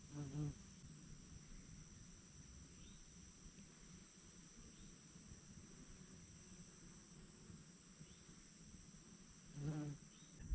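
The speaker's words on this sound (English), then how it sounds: "I sure am glad to see some bees." Faint, steady insect buzzing under a soft background hum, with a couple of brief louder buzzes as bees pass close at the start and near the end.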